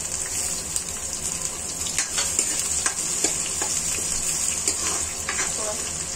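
Roughly chopped garlic and ginger fry in a home kitchen pan, giving a steady bright sizzle with scattered scraping stirs and small crackles throughout.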